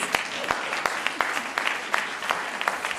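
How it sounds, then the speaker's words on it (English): Audience applause at a poetry program for freedom, a short burst of scattered clapping with distinct individual claps, moderately close, no voices. "Please give yourselves a round of applause"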